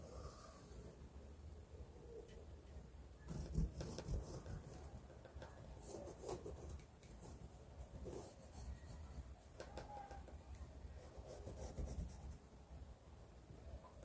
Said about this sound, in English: So I'm going to trace this out with a pencil.